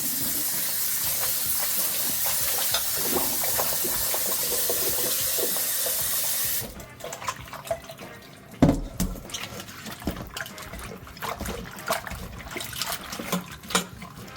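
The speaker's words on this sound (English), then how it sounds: "Wash twice just to make sure it's all clean." Bok choy washed under running tap water in a kitchen: a loud steady hissing stream for several seconds, then splashing and rustling of leaves in water with a sharp knock midway, close and continuous.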